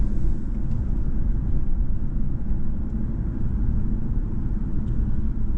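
Steady low engine and road rumble from inside a BMW 5 Series driving through a suburban shopping centre, a constant droning hum with no talk.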